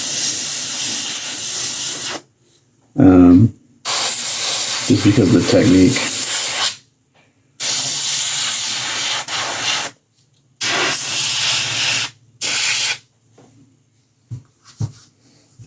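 An airbrush sprays lacquer onto a 1/6-scale sculpted Predator figure in bursts of loud, close hiss separated by silent gaps, with brief talk and a few rubbing sounds between bursts.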